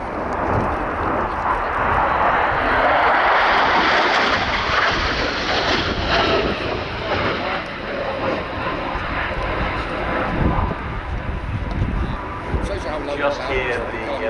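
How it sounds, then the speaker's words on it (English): A display jet at a rainy airshow roars overhead, its loud broadband engine noise shifting in tone as the pilot throttles back, with a commentator talking over the steady rumble. "Just hear the change of tone there with the engine as he's throttling back now"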